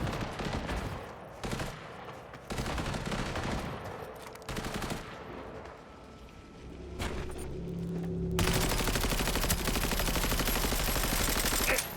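Sustained video game gunfire in Cyberpunk 2077, with bursts of shots landing in rapid succession over a loud, dense mix of impacts and ambient game noise that swells toward the end.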